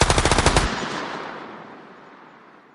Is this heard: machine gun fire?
yes